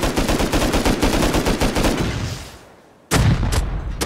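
Loud rapid automatic gunfire during a video game raid, a dense burst of shots that fades out, then a second burst starts abruptly after a brief near-silence.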